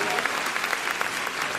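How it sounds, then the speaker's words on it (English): A crowd claps and cheers during a live-streamed show, a dense burst of applause that holds steady at moderate volume for the whole short span. "And the crowd goes wild."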